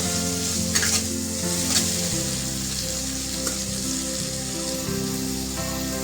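Tomatoes for chutney fry over a medium gas flame, giving a steady, close sizzle that runs throughout with occasional stirring scrapes and no talking.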